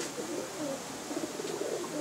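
Pet pigeons at a breeder's home coo softly in a steady, low murmur through the whole stretch, fairly close, with no talk over them.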